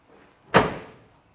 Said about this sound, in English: Door closes nice on the passenger side.